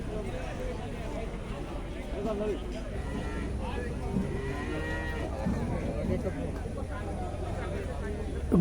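Buffalo low intermittently amid a busy outdoor crowd, with voices chattering throughout and the animal calls rising over the hubbub.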